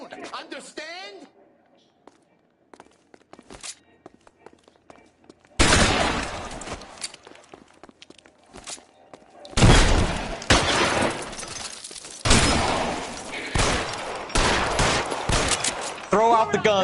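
Many guns fire in heavy overlapping bursts, with loud sustained volleys from about 5.5 s and again from 9.5 s to the end, broken by sharp shattering cracks, while a voice shouts over the gunfire.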